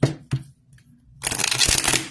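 Divination cards are shuffled by hand in two short taps followed by a longer riffling, crisp and close.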